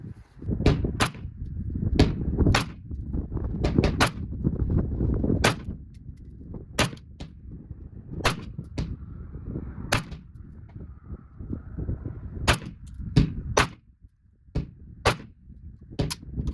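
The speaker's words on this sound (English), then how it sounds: "So I'm going to shoot 10 rounds into the headshot hitbox" A Saiga AK74M rifle in 5.45 fires repeated shots, a series of sharp, loud cracks spaced irregularly over a low, rumbling outdoor background, some shots closely paired and others separated by pauses.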